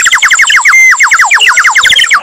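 A clay bird water whistle from Pokharan, filled with water and blown, warbles in rapid, bright chirping trills that imitate birdsong, loud and close with no talk over it.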